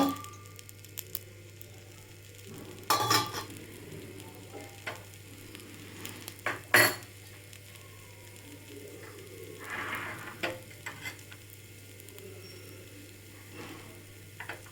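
Dosa batter frying in oil on a hot pan, a quiet steady sizzle with occasional sharper crackles and clinks of a utensil, no voices.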